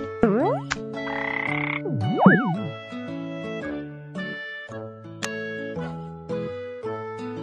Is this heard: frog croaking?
yes